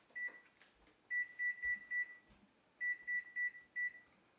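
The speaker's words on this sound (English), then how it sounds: "we'll set the timer for 10 and then I'll check it." An oven timer set while baking chile relleno at 350 degrees beeps in short, clear electronic tones: one beep, then a run of five, then four more, in a quiet kitchen.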